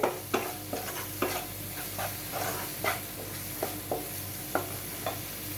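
Spices stirred and frying in oil for Malvani black vatana curry, with a soft continuous sizzle and a repeated scrape of a spoon against the pan at irregular intervals, close and fairly quiet.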